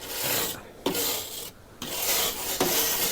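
Rough, gritty scraping of rust off a Mazda B2500 truck frame in long rasping strokes, three bursts separated by short pauses, close and loud.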